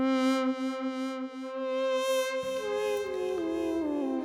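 Moog synthesizer pad preset Subtle Whole Tone holds a sustained tone, then gliding pitch shifts from aftertouch bend the notes upward into a brighter, layered swell, played alone at moderate volume.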